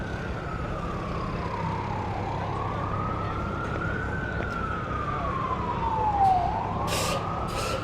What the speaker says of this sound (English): there will be another loud siren